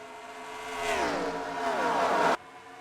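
Stock cars racing in a pack in an NNCS Outback racing game, led by the No. 9 Camaro: a loud, close engine roar rises and sweeps in pitch for about two seconds, then cuts off abruptly.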